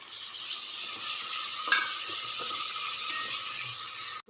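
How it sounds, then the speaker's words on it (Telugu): Tomato going into a pan of frying masala with ginger paste and turmeric, setting off a steady, close sizzle with faint stirring scrapes and no talk. "టమాటా కూడా ఒకటి వేస్తున్నానండి."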